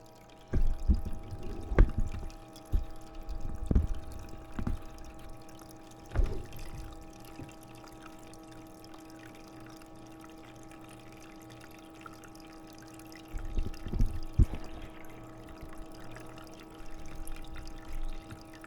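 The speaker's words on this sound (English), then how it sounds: "you can hear it sucking the water" An Aldi Ambiano countertop ice maker draws water through its lines during a cleaning cycle with suds, giving a soft, steady gurgling suction over a mechanical hum, with louder bursts at the start and again near the end.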